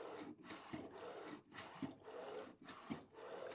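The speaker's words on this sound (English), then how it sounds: "I've got this coffee plunger, and I think when I plunge it, it sounds a bit like a pump." A coffee plunger is pushed down through the brew in a faint, close rubbing and gurgling sequence, with soft rhythmic pulses and bubbly water sounds.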